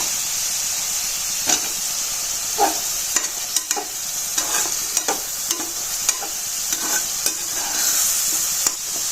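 Fried lentil dumplings (bori) are stirred into masala sizzling in oil, a continuous hissing fry broken by scattered scraping clicks of the spoon in the pan.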